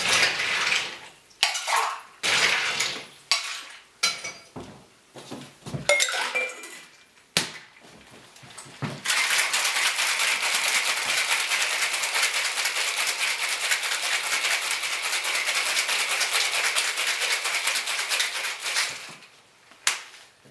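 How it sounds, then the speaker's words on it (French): A Fish House Punch cocktail is shaken with ice in a metal shaker: a few scattered clinks and knocks as it is prepared, then a long, steady, loud rattle of ice that runs for about ten seconds before stopping. "Ensuite, on va shaker."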